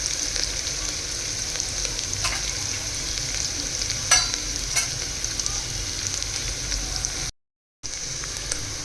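Mixed vegetables fry for a dhaba-style curry, giving a steady close sizzle with faint crackles and a couple of utensil taps, briefly cutting to silence near the end.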